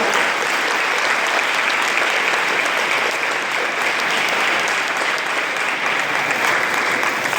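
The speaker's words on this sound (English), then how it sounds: "So let's give them a round of applause." Audience at a regional member network meeting and conference giving a round of applause, sustained loud clapping holding steady for several seconds with no voice over it.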